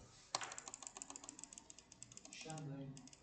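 Rapid clicking keystrokes on a computer keyboard at a steady rhythm, close and quiet, with a brief pause and a soft voice murmuring near the end.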